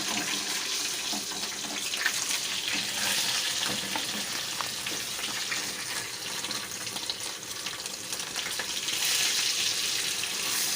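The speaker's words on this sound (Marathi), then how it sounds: "इकडे भाजीची तयारी चालू आहे आणि त्याने पनीर फ्राय करून घेते" Paneer frying in a pan, a loud continuous close-up sizzle with light stirring, swelling slightly toward the end, no voices.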